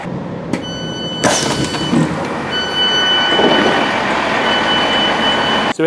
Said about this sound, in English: we shall be leaving Reading Green Park Station on the 12:14 Great Western Railway service to Basingstoke